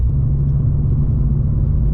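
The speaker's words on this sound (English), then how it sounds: "I don't know how Abarth have done it, but I love the sound of this engine" Abarth 595 Competizione 1.4 engine through a Monza exhaust, a loud, steady low rumble and drone heard close up, unbroken and without talk for the whole stretch.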